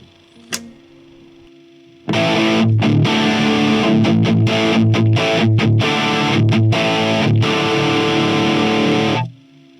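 After a faint tap, a heavily distorted electric guitar through a TC Electronic Ampworx JIMS 800 tube preamp rings out loud and sustained, with chords struck and choked in a choppy rhythm before stopping.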